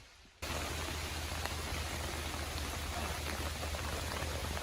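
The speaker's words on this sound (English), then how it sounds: "So it's starting to rain." Rain begins falling outdoors at a bushcraft flint-knapping site, a dense, even hiss of drops that switches on abruptly after a brief quiet moment and holds steady at full strength.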